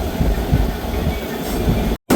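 Steady rumble of the 14735 Sri Ganganagar–Ambala Cantt passenger train running along the tracks, loud and continuous, with a brief dropout near the end.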